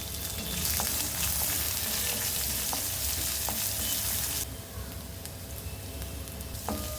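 Steady, close sizzling and crackling of mustard seeds, urad dal and chopped shallots frying in hot oil in a kadai, with occasional light pops and stirring scrapes, continuing without any voices.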